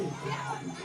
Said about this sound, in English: The home crowd took a massive intake of breath.